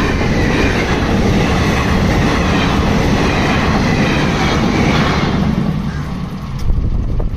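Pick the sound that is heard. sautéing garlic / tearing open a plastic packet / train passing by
train passing by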